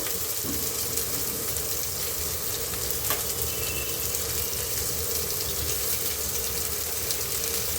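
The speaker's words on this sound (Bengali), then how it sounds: "ফুলকপিগুলো ভাজা হতে থাকছে তার সাথে সাথে আমি একটু দিয়ে দেবো এখানে আলু" Cauliflower florets and potato pieces fry in a pan with a loud, continuous sizzle that holds steady from start to finish, with no talking.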